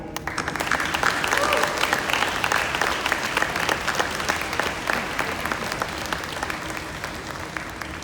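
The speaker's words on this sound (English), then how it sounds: "please join me in a salute and a round of applause for those people, including your faculty and staff" A graduation audience applauds faculty and staff in a sustained, steady round of clapping from a large crowd, loud and even throughout with no voices over it.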